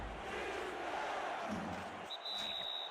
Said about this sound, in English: You hear the San Diego crowd